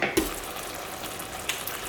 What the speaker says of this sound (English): Now we'll add the yogurt, and then we'll cover it and let it cook through.